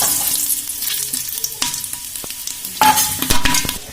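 Ghee and garam masala frying for chicken biryani, a close, fairly loud sizzle with repeated clattering stirs and scrapes in the pan, growing busier toward the end, and no speech.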